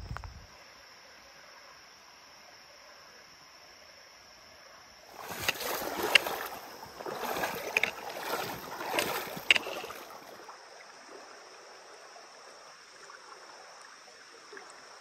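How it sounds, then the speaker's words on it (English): Abrams Creek in the Smokies runs at a trail crossing as a steady, faint wash of flowing water. It swells for several seconds into louder splashy bursts, then settles back to a soft background flow with no talking. "Right off the bat, I've got a creek crossing."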